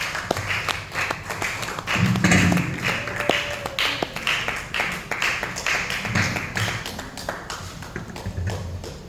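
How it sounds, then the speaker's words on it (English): Workshop audience applauding a speaker: a dense spread of hand claps from a room of people, holding fairly steady for several seconds with a few louder bursts and thuds. "A round of applause for her again, please."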